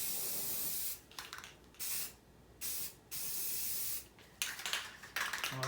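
Spray paint hissing from an aerosol can onto a part of a 1986 Ford 300 inline six during a rebuild, in several close bursts separated by short pauses, with quieter spitting near the end.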